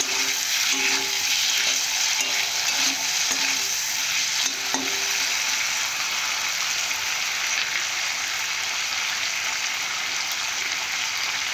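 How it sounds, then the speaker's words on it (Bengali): Malabar spinach greens with chili powder are stirred and fried in a pan: a continuous sizzle runs throughout, with a spatula scraping and clinking at intervals, near and alone. "এইভাবে ভালো করে কষে নেব"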